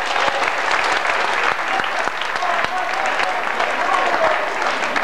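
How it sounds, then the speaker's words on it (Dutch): A crowd at a football club's 75th anniversary gathering claps steadily and densely, filling the room with continuous applause. "Ik vind voor Gerard een applaus op zijn plaats."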